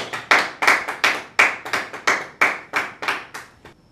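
A church congregation clapping for Jesus, about a dozen sharp, loud hand claps in a steady rhythm, close and clear, with no cheering or talk heard.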